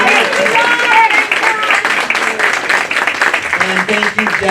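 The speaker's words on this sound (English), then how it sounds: "let's have one more round of applause" A crowd at a banquet-hall reunion gala in Burbank, California, gives a warm round of applause. Loud, sustained clapping fills the room, mixed with overlapping voices and cheers.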